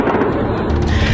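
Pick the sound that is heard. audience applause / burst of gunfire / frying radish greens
burst of gunfire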